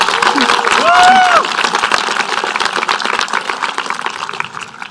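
A graduation audience at a high school ceremony claps steadily throughout, with cheering voices and whistles rising briefly over the clapping.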